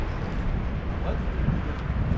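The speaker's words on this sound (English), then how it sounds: "A little windy, a little breezy" Wind gusts buffet the microphone on a breakwater jetty at Baileys Harbor in Door County, Wisconsin, a continuous low rumbling roar with no break.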